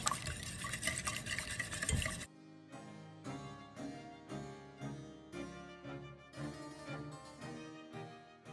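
Drop scone batter stirred in a bowl for a Queen Elizabeth II recipe, a dense close scraping swirl for two seconds, then a steady rhythm of repeated stirring strokes, roughly one every half second, with no talk.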